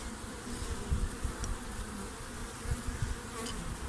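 Dense, continuous buzzing of many honeybees shaken from a nucleus hive close by, with a few soft bumps under the swarm's drone.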